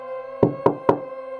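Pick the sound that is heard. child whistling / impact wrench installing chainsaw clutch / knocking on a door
knocking on a door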